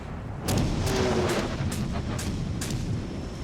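Cruiser guns fire in World of Warships: Legends, a steady series of about six sharp booming salvos at even intervals over a rumbling battle background.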